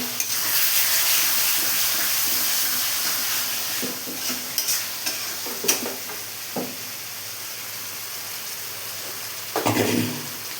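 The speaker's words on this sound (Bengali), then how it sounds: "এটা খানিকক্ষণ আমি একটু কষিয়ে নেবো।" Chicken kosha being stir-fried in a pan, a loud sizzle that slowly fades, punctuated by scattered spatula scrapes and a final stirring clatter, with no talk.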